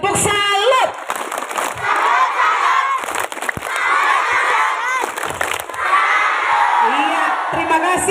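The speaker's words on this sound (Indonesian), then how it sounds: "Tepuk salut dulu untuk Pak Yanto." A crowd of children at a Catholic elementary school literacy event shouts and chants loudly through a salute clap routine, with sharp clap bursts breaking through the sustained group voices.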